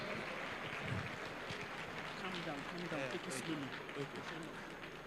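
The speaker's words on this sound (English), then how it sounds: "Just keep clapping for him as he comes on stage." A crowd applauds a gubernatorial candidate, Engineer Seyi Makinde, as he walks on stage at the 2015 Oyo State governorship debate hosted by Splash FM. The clapping is a dense, steady wash for the whole stretch, with murmuring voices mixed in.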